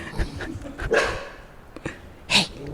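Puppies bark and yip in a few short, sharp bursts close by, with brief gaps and faint whimpering between the barks.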